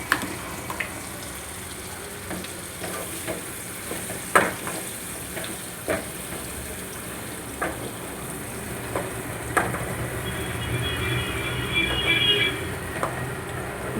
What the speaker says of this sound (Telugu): ఇలా తాలింపులోనే వేడి ఆయిల్లో వేసేసి కొంచెం మగ్గించుకోవాలి.